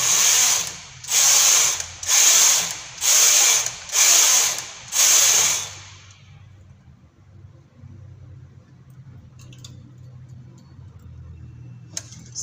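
A knitting machine carriage sweeps across rows of a capelet poncho: six even, loud swishing passes in steady rhythm, then a quiet room with faint ticks.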